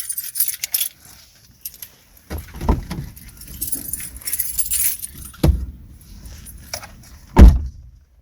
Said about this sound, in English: Take all smart keys outside the vehicle.